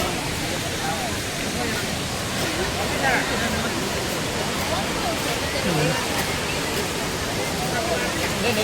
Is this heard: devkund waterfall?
yes